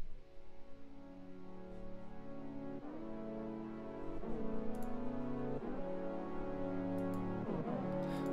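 A detuned saw wave pad built in Serum with three unison voices, playing sustained chords that shift every couple of seconds, thick and buzzing, growing slightly louder and brighter partway through, with no talk over it.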